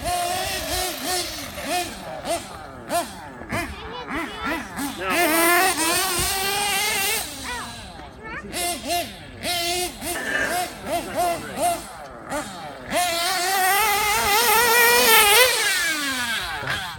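A Novarossi R.28-7M nitro engine in an RC truggy running on first start-up, buzzing loudly and revving up and down repeatedly nearby, with people talking over it.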